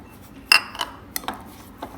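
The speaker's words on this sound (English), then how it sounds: "Now we're going to mix this well." Ducana batter being mixed in a bowl, a few sharp clinks of a utensil against the bowl spaced irregularly over soft stirring, close and fairly quiet.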